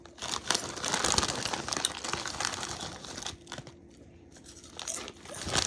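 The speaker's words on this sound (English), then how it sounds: "Off the first chip, it's still crunchy." Loud, close crunching and crinkling as crisp Lay's sour cream and onion potato chips are bitten and chewed, in dense bursts that ease off then pick up again near the end.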